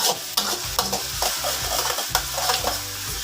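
Onion, garlic and ginger sautéing in a pan for chicken curry with tomato, a steady close sizzle broken by repeated scraping stirs and clinks of a utensil against the pan, with no talking.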